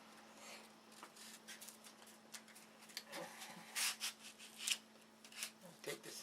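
Sandpaper rubs back and forth in short, uneven strokes, quiet and close, over a faint steady hum.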